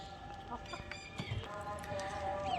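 Chickens kept on an open rooftop cluck in short, scattered bursts at moderate distance, with light background noise and no talking.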